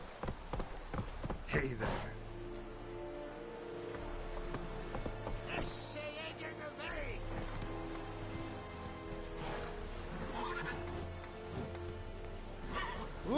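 Roach, the horse in The Witcher 3, trots along with steady clip-clop hoofbeats and an occasional whinny, while a voice speaks briefly over the game sound.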